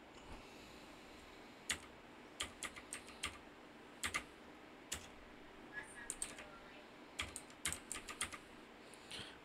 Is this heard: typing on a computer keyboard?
yes